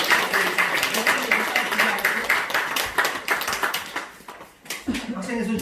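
A Sunday church congregation claps again, more vigorously, in welcome of newly baptized members: brisk rhythmic clapping from many hands that thins out near the end as a voice begins speaking.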